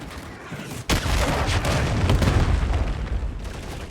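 A cruise missile strike in Modern Warfare 3 on the Rust map during Domination, a sharp blast followed by a sustained, dense rumble of explosions and gunfire that fills the remainder.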